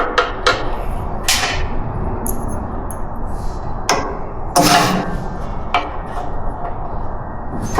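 A zero-degree, gearless clutch-type ratchet turning fasteners on a 1965 Chevrolet C10 hidden taillight fuel filler, giving a few loud, close metallic clicks and snaps spaced apart over steady shop noise.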